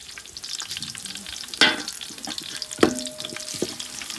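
Onions fry in a pan with a constant soft sizzle, broken by a couple of sharp scraping stirs, close and fairly quiet with no talking.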